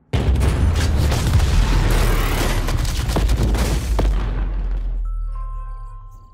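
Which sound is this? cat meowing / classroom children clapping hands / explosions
explosions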